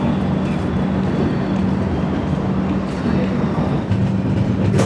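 The 12523 New Jalpaiguri–New Delhi Express starts moving, giving off a steady low rumble and a constant hum that roll on evenly with no voices.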